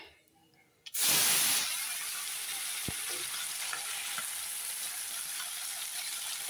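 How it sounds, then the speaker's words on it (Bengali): Small local river fish frying in hot oil, a loud burst of spitting sizzle as a new batch goes in, then a steady close hiss of frying that continues to the end. "এই মাছগুলো ভাজা হয়ে গেছে, এখন তুলে নিচ্ছি। পরেরগুলো আবার দিয়ে দিচ্ছি।"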